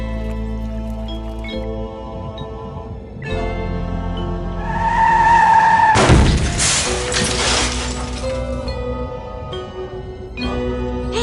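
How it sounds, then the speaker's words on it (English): A delivery truck smashing into a fence in an audio drama: a steady engine drone builds, then a loud, noisy crash and scrape erupts mid-clip before settling back to a lower hum. "Someone drove a delivery truck into the fence"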